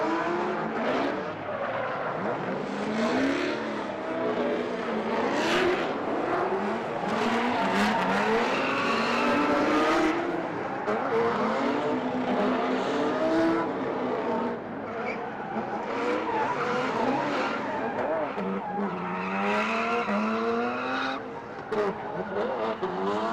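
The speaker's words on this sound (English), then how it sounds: "we'll just let you hear some sweet turbo VQ noise" A turbocharged VQ-engined drift car at a Lake Erie Speedway pro-am drift competition: loud, sustained engine roar that rises and falls with revving, mixed with tire squeal and a faint crowd or commentary behind it.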